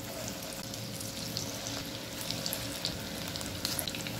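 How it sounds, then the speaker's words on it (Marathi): Spring onion fritters (bhaji) sizzle in hot oil in a kadhai, a steady, fairly quiet frying hiss with small crackles and pops throughout, no talking. "भजी टाकताना गॅस कमी करायचा आहे।"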